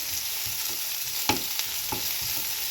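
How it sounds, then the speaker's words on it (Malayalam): Chopped garlic and shallots sauté in a pan for a fenugreek-leaf thoran, a soft continuous sizzle with a few sharp spatula taps and scrapes, close but fairly quiet, with no voices. "വെളുത്തുള്ളി അരിഞ്ഞത് ചുവന്നുള്ളി അരിഞ്ഞതിടണം. അതൊന്ന് വഴറ്റി എടുക്കണം."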